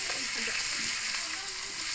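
Beef steak frying with potatoes in its own juices in a pan, a steady close sizzle hissing continuously throughout with faint low murmurs underneath.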